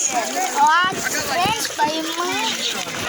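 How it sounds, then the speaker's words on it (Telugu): Water splashing and falling in a park at Pulivendala, a steady spattering wash under excited talk from a person nearby, with children's voices and bursts of louder splashing. "అంతా వాటర్ అన్ని పడుతున్నాయి ఫ్రెండ్స్, వాటర్ అన్ని పడుతుండే"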